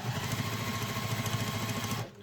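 Sewing machine stitching binding tape onto a travel satchel, a fast steady mechanical whirr of needle strokes running close and loud for about two seconds before stopping abruptly.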